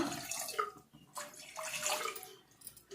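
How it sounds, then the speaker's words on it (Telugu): A glass of water poured into a bowl gives a close, splashing, trickling pour in uneven bursts, fading in and out over a few seconds with no voices. "బౌల్లో వచ్చి ఒక గ్లాస్ నీళ్ళు పోసుకుంటానమ్మా"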